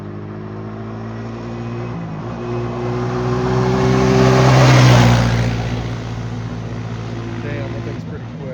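A Honda Rancher 350 quad passes at speed, its engine note rising to a loud peak near the middle and then fading as it draws away, outdoors with no talk.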